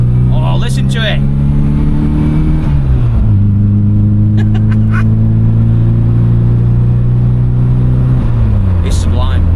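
Tuned A-series engine in an MG Metro accelerating hard, a loud rising drone that climbs through the gears with two shift dips, heard from inside the car while a person talks over it.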